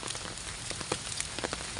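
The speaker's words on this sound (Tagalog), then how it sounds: "Umuulan guys." Rain falls steadily while someone walks outdoors, a dense patter of drops hitting surfaces with scattered sharper splashes, close and continuous.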